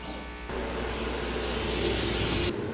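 A Thunder laser cutter making a single-line, four-pass cut through 3/4 inch plywood, heard as a steady, fairly loud broadband whir with machine hum that starts abruptly and runs continuously before cutting off.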